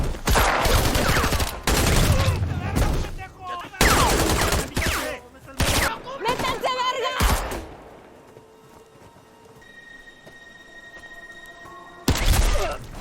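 Bursts of automatic gunfire in a film shootout between Mexican special forces and a drug cartel: loud, rapid volleys in several long clusters, a quieter lull with faint ambient tones, then another sharp burst.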